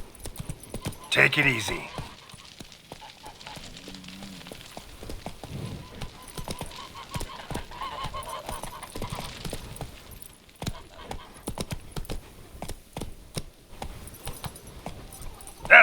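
Roach the horse trots in The Witcher 3 game, a run of rhythmic hoof clip-clops with some jingling tack, while someone speaks briefly over it.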